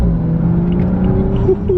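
The engine of a 2016 F32 BMW 435i rumbles low and steady close by, with a slight rising rev toward the end.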